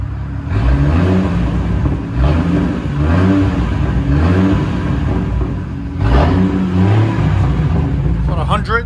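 Straight-piped V6 exhaust on a 2002 GMC Envoy revs loudly and repeatedly, rising and falling in several close, rumbling bursts with a voice briefly audible near the end.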